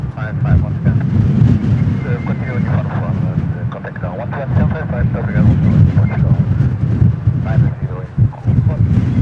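Strong wind at Lisbon Airport buffets the microphone with a loud, continuous low roar that gusts steadily throughout, with muffled voices faintly present beneath it.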